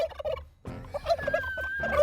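A wild turkey gobbles in short rapid bursts, several rattling calls separated by brief pauses, fairly close and clear over a low rumbling background, with one sustained higher whistle-like tone running through the middle.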